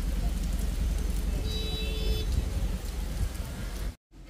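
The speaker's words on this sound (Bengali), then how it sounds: "ধরো হাওয়াটা সমানে বয়ে যাচ্ছে, তো হাওয়াটা থামার কোনো লক্ষণ নেই" Cyclone Remal wind and rain outdoors: a dense, continuous roaring wash of gusting wind and rainfall, loud and unbroken until a brief cutout near the end.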